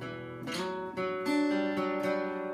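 Guitar playing a 1980s-style chord: a few strummed chords ring out one after another with sustained, overlapping notes, close and moderately loud.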